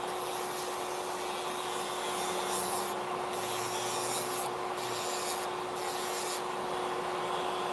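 A steady, close rubbing and sanding sound of an electric file's sanding band grinding down acrylic nail, continuous over a constant mechanical hum.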